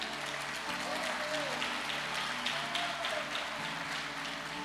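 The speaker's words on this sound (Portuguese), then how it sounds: "Você pode aplaudir o Senhor?" A church congregation at a conference applauds, a broad sustained patter of many hands filling the room, with a faint tonal hum and some voices mixed beneath the clapping.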